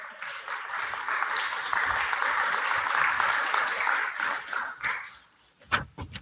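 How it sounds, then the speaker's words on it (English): An audience gives a warm round of applause for a guest being welcomed at a talk, a full, steady patter of many hands that swells, then thins out, ending in a few scattered claps and knocks. "Let's give him a warm round of applause."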